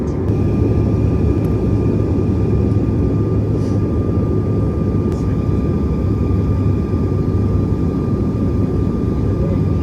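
Steady, loud cabin drone of a Delta Connection CRJ-900 regional jet in flight between Jacksonville, NC and Atlanta, a constant low roar with a faint tonal hum running unbroken throughout.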